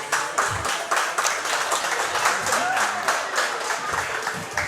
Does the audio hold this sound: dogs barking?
no